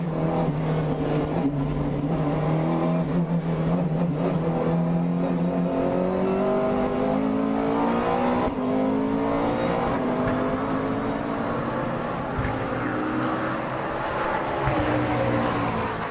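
A McLaren MP4-12C GT3 race car accelerating hard on track, its engine note climbing steadily through the revs in a loud, continuous roar heard up close, with no voices.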